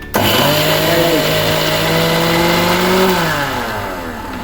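A mixer grinder crushing grated coconut and two cut green chillies for pineapple pulissery, a loud steady motor whine running for about three seconds, then winding down as it switches off, with no talking.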